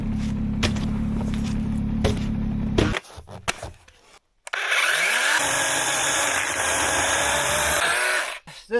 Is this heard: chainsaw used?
yes